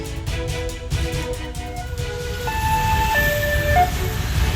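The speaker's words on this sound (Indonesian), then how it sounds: "ambulans ini di-stop karena melaju secara ugal-ugalan menggunakan sirene" An ambulance siren wails nearby over traffic rumble, its two-tone pitch stepping up and down in a repeating pattern.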